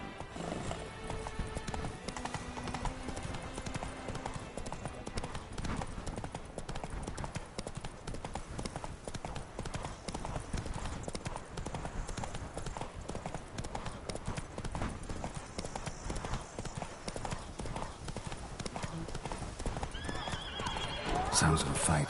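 Continuous clip-clop of a horse galloping in the video game The Witcher 3: Blood and Wine, steady and close throughout, with whinnies and a short burst of game combat noise near the end.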